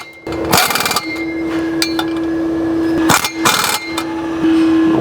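Metal clinks and ratcheting clicks from a wrench tightening the three reused exhaust nuts on a 2023+ Acura Integra Thermal R&D exhaust, loud and close, with a steady hum running through and brief bursts of clattering.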